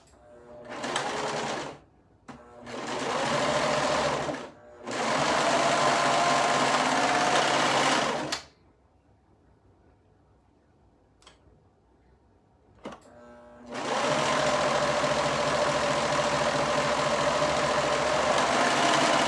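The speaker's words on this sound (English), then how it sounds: "I'm going to sew the long edges, top and bottom again." Sewing machine stitching the long top and bottom edges of a dress, running in loud steady bursts: two short runs, a longer stretch, a quiet pause with faint handling, then another long continuous run.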